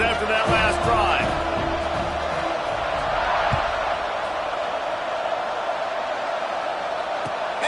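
A stadium crowd roars in a college football game between SMU and Pittsburgh during a fourth-quarter kickoff, a broad steady wash of cheering holding throughout with a few sharp knocks early on.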